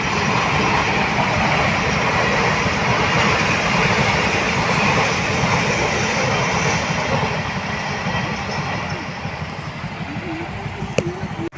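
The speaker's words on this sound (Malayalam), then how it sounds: "എന്തായാലും അങ്ങോട്ടൊരു ട്രെയിന്" A train rumbles past steadily for several seconds in Palakkad, a broad, heavy roar that eases slightly toward the end.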